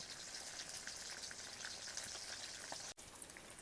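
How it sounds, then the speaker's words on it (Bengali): Small pond carp coated in mustard paste, chilli and turmeric fry in a pan, giving a faint, even sizzle with light crackles throughout and no talk. "মাছগুলো লাল লাল করে ভাজা হয়ে গেছে এবার তুলে নেব"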